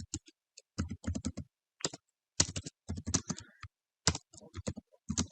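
Typing on a computer keyboard, with irregular bursts of close, crisp key clicks separated by short pauses; no one speaks.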